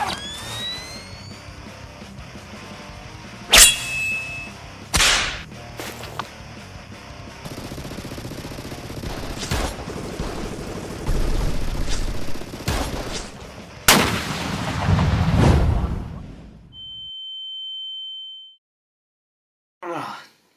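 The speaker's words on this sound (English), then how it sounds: "So you want a gunfight," Cartoon gunfight in an animated short: several sharp gunshot cracks and bursts spread across the scene, loud and close, mixed with other action sounds and ending in a steady tone before a brief pause.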